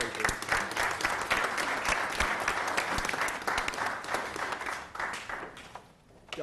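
An audience at a town council meeting applauds steadily with dense, sustained clapping that thins out and fades near the end.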